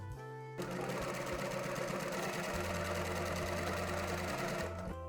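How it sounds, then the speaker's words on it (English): Sewing machine stitching the shoulder and side seams of a drop-shoulder cotton tee, a steady close mechanical whir that starts abruptly, runs continuously for several seconds and then stops. "You're going to pin them right sides together at the shoulder and side seams, and then sew them at a 1/2 inch seam allowance."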